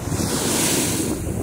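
Ocean waves wash steadily onto a beach, a loud continuous roar of surf mixed with wind buffeting the microphone, with no voices.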